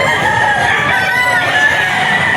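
Rooster crowing loudly and close at a pet market, one sustained drawn-out crow with clucking fowl in the background.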